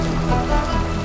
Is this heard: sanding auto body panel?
no